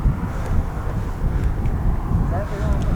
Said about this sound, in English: I'm getting wind blasted up here.